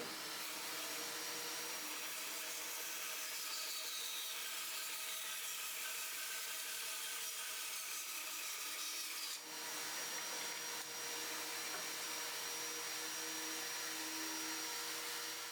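A bandsaw whines steadily while cutting a half-inch slice from a block of scrap wood, a continuous dense drone with a brief dip partway through, no talking.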